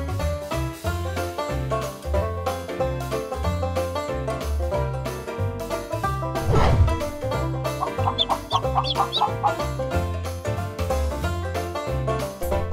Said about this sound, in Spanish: Esas son unas gallinas.